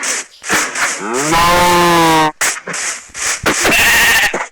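A long, loud bleat rises and holds, wavering, between stretches of nearby talking.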